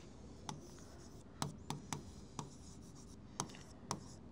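Marker or chalk writing on a board during a maths lesson, a series of sharp taps and short strokes at irregular intervals, close and quiet with no talk.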